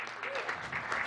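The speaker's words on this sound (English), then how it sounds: "Let's give Vice Mayor Cooper a big round of applause." An audience at a council meeting applauds Vice Mayor Cooper, a short burst of steady, fairly faint clapping with a brief voice faintly underneath.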